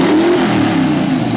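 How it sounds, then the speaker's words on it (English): A twin-turbo Dodge Ram 1500 pickup with a stock-bottom-end 5.2 liter Magnum V8 and GT35 turbochargers revs hard and close. The steady, loud engine drone holds throughout with no talking. "Today, our vehicle is a twin turbo Dodge Ram 1500."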